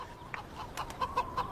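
Chickens offered for sale in a historical war drama cluck in short, soft, quick pulses a little distance away, quiet and alone.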